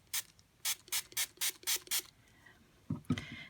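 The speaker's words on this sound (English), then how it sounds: "Then, where's my spray bottle? This is just water then," A water spray bottle pumps out six quick regular spritzes close up while altering an Altoid tin, followed by a few softer handling clatters.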